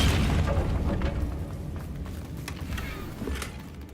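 Confringo fire spell blasting in Hogwarts Legacy, a loud booming explosion that rumbles and slowly fades, with a couple of smaller pops trailing after it.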